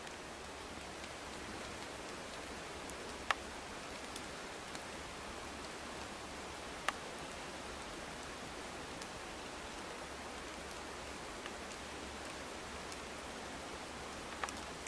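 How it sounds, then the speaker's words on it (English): Steady, soft rain hisses continuously, with a few distinct drops tapping now and then; no voices. "Kind of a bummer spring break and it's raining every day."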